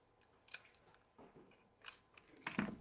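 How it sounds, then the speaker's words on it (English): Scissors snip through the stems of handmade paper flowers, a few quiet, sharp cuts spaced out with a louder crunching snip at the end. "let's go ahead and cut the back ones off"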